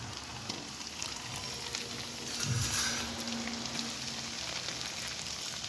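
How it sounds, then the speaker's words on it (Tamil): Snacks deep frying in hot oil in a pan give a steady, soft sizzle and crackle throughout, swelling slightly louder for a moment midway. "இப்போ ஒன்று ஒன்றா பொரிச்சு எடுத்துக்கலாம்"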